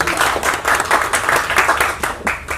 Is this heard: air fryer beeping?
no